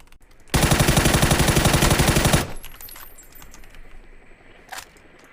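Rapid automatic gunfire in Valorant on the Haven map: a loud, dense burst of closely spaced shots lasting about two seconds, followed by quieter game sounds and a faint later shot.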